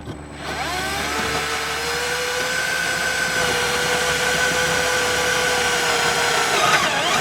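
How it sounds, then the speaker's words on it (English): A power drill whines steadily at high speed drilling a quarter-inch hole in plastic on a 2023-2025 BMW X7 M60i, its pitch climbing slightly as it bites through, loud and close with no talking. "you're going to drill your first 1/4 inch hole"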